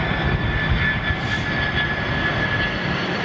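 A Boeing 747-400 jet at London Heathrow gives a continuous distant roar with a steady tonal whine, loud and unbroken throughout.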